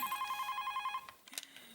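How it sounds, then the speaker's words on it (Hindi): A telephone bell rings in a steady repeating electronic trill for about a second in an indoor household setting, then stops as soft rustling and handling sounds follow. "अभी फोन उठा रही है तो उठा, घंटी बज रही है कब से।"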